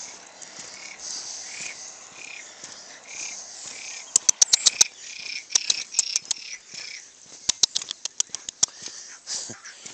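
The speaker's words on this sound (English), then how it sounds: "I think there's frogs over there" Frogs call near water where cattle drink on Pico Alto, Santa Maria in the Azores, a chorus of rapid croaks and chirps among insect trills, with sharp clicking bursts close by and no talking.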